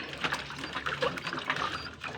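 Water splashes and pours out in a short gushing run while a child is being bathed, close and fairly quiet, with soft voices faintly under it.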